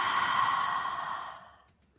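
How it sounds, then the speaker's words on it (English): A person breathes too close into a Blue Yeti microphone, producing one long, loud, hissing exhale right against the mic that fades away over about a second and a half. "somebody has their mic a little too close and is breathing to it"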